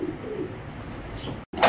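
Racing pigeons coo softly at close range, a low brief murmur over faint ambient noise with no voices.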